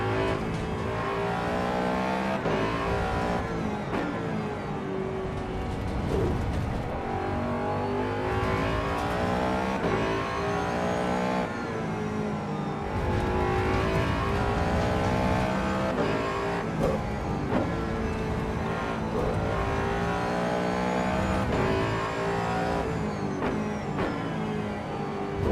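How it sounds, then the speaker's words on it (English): A race car engine in Assetto Corsa Evo howls steadily at high revs, its induction roar rising and falling through repeated gear changes across a long continuous stretch. "It's the induction sound."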